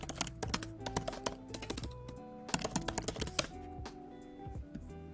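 Typing on a computer keyboard, bursts of quick close key clicks in irregular rhythm with short pauses, fairly quiet and alone.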